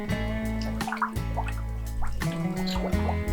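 Water drips and trickles as a whole turkey is lowered into a pot of brine, with several distinct splashy drips close by over a steady tonal background.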